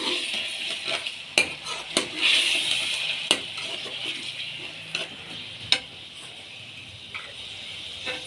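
Chicken frying in a pot with tomatoes and green chilies added, a soft hiss and sizzle with sharp clicks of a spoon stirring against the metal, quiet and close.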